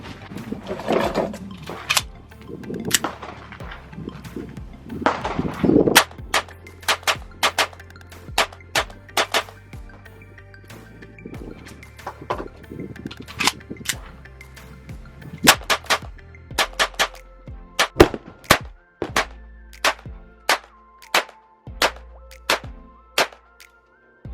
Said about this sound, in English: Aim at those little orange